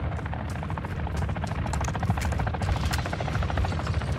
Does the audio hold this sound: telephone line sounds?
no